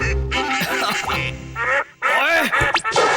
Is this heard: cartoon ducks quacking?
yes